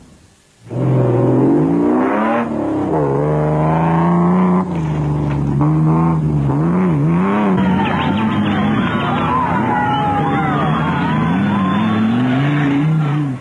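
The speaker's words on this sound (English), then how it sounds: "Time for us to go off-road racing." Off-road racing vehicles drive close and loud, with a steady engine roar whose pitch climbs and falls as they rev and shift, running continuously for the whole stretch.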